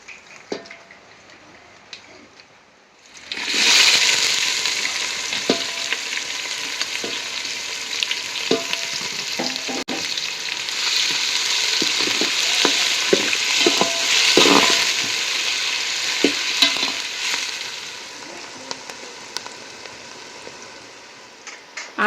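Bay leaf and whole spices hit hot oil for a mutton curry, bursting into a loud, steady sizzle after a quiet start, with occasional stirring clatter and crackle as frying continues.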